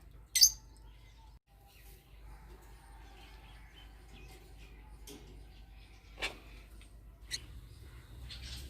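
Pet parrots chirp in their cage, a few sharp isolated calls spread over a quiet room background.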